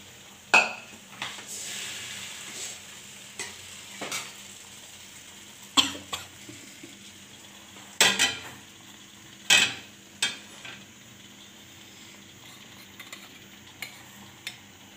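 A simple egg omelette is prepared in a kitchen pan, with scattered clinks and scrapes of utensils against the pan, brief stirring, and a faint sizzle between the sharper knocks.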